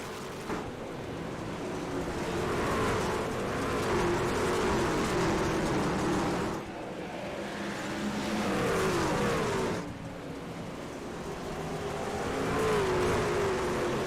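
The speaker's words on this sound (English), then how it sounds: "We are dirt track racing in Darke County." Race trucks roar around the Eldora Speedway dirt track in a Darke County 150 truck series event, a steady, loud wall of engine noise that swells and fades in long waves as the pack passes.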